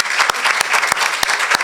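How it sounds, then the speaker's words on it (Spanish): An audience at a talk on population ageing and human rights claps for Lucila Castro, a close, loud burst of applause with a few sharp, distinct claps standing out. "Un fuerte aplauso para ella también."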